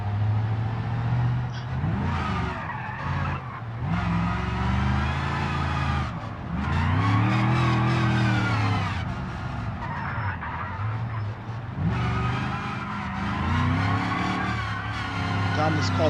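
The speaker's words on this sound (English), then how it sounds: "this car's revving" A car in the BeamNG driving game revs hard in repeated rising and falling surges, with tire squeal and skidding in between, while a person talks over it.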